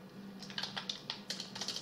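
Keystrokes on a computer keyboard while entering a command in a Linux terminal, a run of quick, irregular clicks at close range, with no voice.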